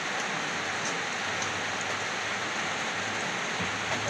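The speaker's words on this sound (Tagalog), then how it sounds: "Parang lalong lumalakas po yung ulan." Heavy typhoon rain pours down in a dense, constant hiss in Tacloban, loud and unbroken from start to finish with no voices.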